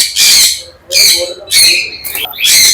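Loud, harsh ringneck parakeet squawks repeat close by, four shrill calls in quick succession with short gaps between them.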